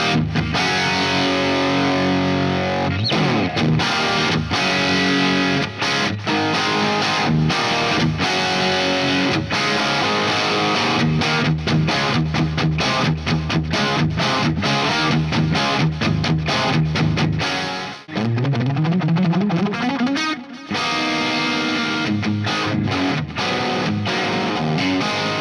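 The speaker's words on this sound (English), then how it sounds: "a Les Paul through a Marshall Plexi is a pretty good combo" A Les Paul electric guitar played through a Marshall Plexi amp rings out with heavy distorted chords and riffs, loud and close, continuing for over twenty seconds with brief pauses and a sliding pitch sweep near the end.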